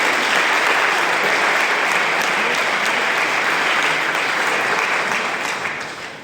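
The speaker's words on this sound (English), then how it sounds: "round of applause for our state directors" A hall audience at a NIRSA Region 1 member network meeting gives a sustained round of applause for the state directors, dense and steady throughout before tapering off at the very end.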